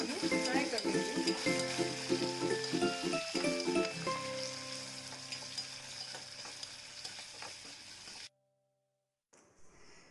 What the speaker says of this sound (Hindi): ये आलू फ्राई कर लेंगे।